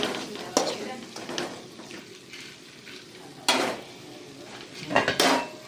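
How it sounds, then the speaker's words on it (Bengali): Chicken with salt and spices being stirred in a pot, a metal spoon scraping and clanking against the pot in irregular bursts over a low sizzle, close by and moderately loud. "পরিমাণ মতো নমক এটাতে দিয়ে দিচ্ছি, এরপর মিক্স করে নিচ্ছি।"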